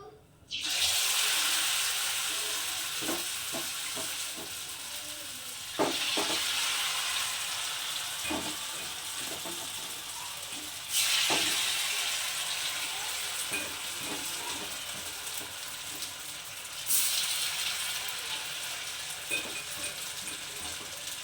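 Soybean mutha patties sizzle in hot oil, a steady bright crackle that swells fresh each time new pieces go into the pan, with soft clinks of a utensil stirring now and then.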